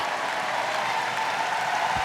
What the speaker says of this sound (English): she gets a huge reception from the crowd